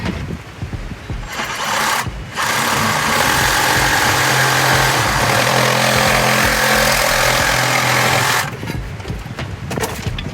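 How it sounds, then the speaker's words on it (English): A Sawzall reciprocating saw trims the end of a pipe during a plumbing valve conversion, a loud sustained buzzing cut lasting several seconds, starting abruptly and stopping near the end, with no talk. "this is where my Sawzall will come into play. Shave off a little bit."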